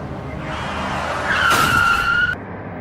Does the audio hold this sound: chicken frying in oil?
no